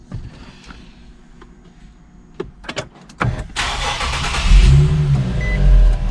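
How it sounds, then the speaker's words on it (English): A few clicks, then an Infiniti G37 engine cranks and catches, settling into a loud, steady idle with a brief rev. "Okay, so you're gonna start the car."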